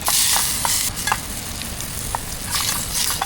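Tomato with chilli frying in hot oil in a pan on a gas stove, a steady loud sizzle broken by brief scraping stirs through the clip, with no talking.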